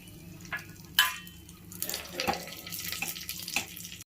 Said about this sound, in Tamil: பெருஞ்சீரகம் எல்லாம் பொரிஞ்சு வருது